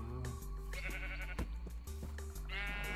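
Sheep in the Minecraft video game bleat repeatedly, several short wavering calls in a row, loud and upfront over steady background game sound, with no voices.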